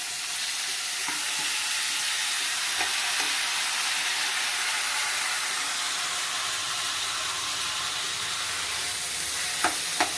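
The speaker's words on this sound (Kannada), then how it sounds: "ಇದು ಈರುಳ್ಳಿನ ಹುರಿತಾ ಇದ್ದೀನಿ." Onions sizzle in hot oil with urad dal and mustard seeds in a pan, a steady close hiss and crackle with a few soft stirring clicks and taps.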